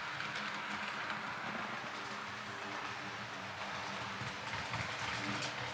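An SU46 diesel locomotive hauls a train on the Żagań–Cottbus line, giving a steady, continuous rumble of wheels on rails with faint clicking, fairly close and without talk throughout.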